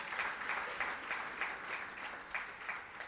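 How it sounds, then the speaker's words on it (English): Audience at a customer experience CEO breakfast applauds panelists, a soft, fairly distant wash of clapping from a seated crowd that rises and falls in waves for about three seconds. "A round of applause for our panelists."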